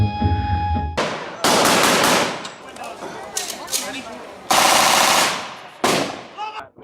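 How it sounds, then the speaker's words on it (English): Browning M1919 A4 machine gun fires at a living-history WWII event at Midway Village Museum in Rockford, Illinois, with loud bursts of rapid automatic fire that ring out and die away, beginning after a brief hum. "Today we're looking at the Browning machine gun, model of 1919 A4."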